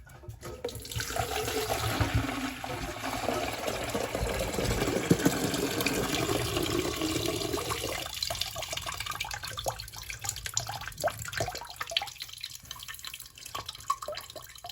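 Water drains steadily from the tank of a Kohler Devonshire toilet during a rebuild, a continuous rushing flow that gradually thins into scattered drips and trickles, close and fairly loud, with no talking.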